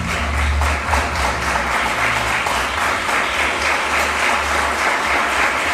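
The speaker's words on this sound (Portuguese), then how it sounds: "aplauda bem forte aquele que vive" Church congregation applauding loudly and steadily, dense clapping from a large crowd filling the whole stretch without letting up.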